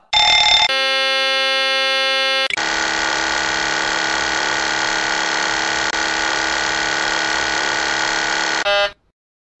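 Boeing 737 cockpit warning alarms sound in succession: a short tone, then a harsh buzzing horn, then a long steady electronic warble cutting off abruptly into silence, loud and close.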